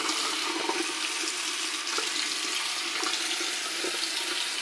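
Bath water running for a baby, a steady close hiss and splash from the tap filling the tub, continuous and fairly loud with no talk over it.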